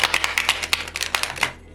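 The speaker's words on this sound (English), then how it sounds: "I'm not very good at shuffling this deck though, because it's a bit hard for me." A tarot card deck being shuffled by hand gives a quick run of about a dozen crisp, snapping riffles close by, which then trail off into quiet.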